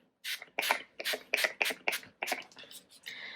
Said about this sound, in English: Now I put a little bit of the Urban Decay setting spray.